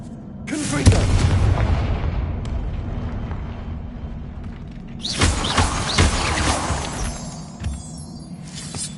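A Confringo blasting spell explodes in the Hogwarts Legacy video game, a loud booming burst near the start followed by a rumbling tail and a second crashing blast about midway, with shattering debris.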